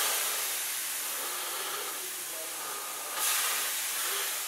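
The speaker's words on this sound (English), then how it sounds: "Here is me flicking water onto a griddle." Water flicked onto a hot griddle gives a broad steady hiss of sizzling steam, with a sharper burst of sizzle near the end, no talking.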